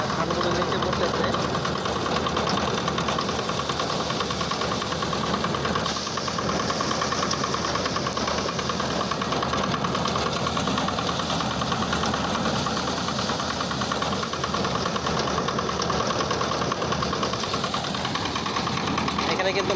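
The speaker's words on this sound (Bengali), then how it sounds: "এখানে কিন্তু মেশিনের আওয়াজটাও হচ্ছে।" A rice paddy threshing machine runs continuously nearby with a loud steady engine drone and rattle, under a voice talking.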